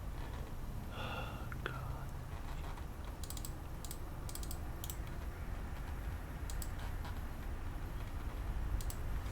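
Typing on a computer keyboard while setting up a Raspberry Pi to flash a BIOS chip. Quiet clusters of key clicks come in short bursts over a faint room hiss, with a brief soft voice sound near the start.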